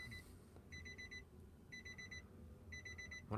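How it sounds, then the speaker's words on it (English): Three bursts of rapid electronic beeping, each a quick string of high chimes, repeating at regular intervals over a low background rumble, from a 2022 Nissan Frontier Pro-4X warning chime in accessory mode. "Wonder how long it's going to beep at me."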